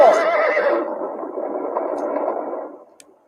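A horse in an old film lets out a long, loud whinny that trails off gradually over a few seconds, with a slightly boxy, dated soundtrack quality and no speech.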